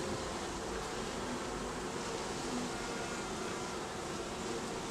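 Honey bees buzz steadily at a hive entrance in an Alaska rainforest setting, a dense continuous hum that stays even and fairly faint throughout, with no talk.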